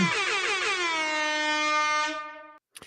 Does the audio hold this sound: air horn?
yes